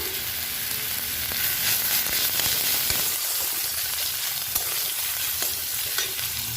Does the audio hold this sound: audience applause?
no